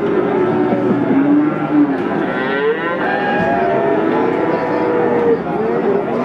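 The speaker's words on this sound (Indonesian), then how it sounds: "Sapi-sapi tanggung dari Pasar Sapi Wage dan Maros Brojopati" Cattle at the Pasar Sapi Wage market in Pati, lowing in long drawn moos one after another, close and loud over a murmur of the crowd.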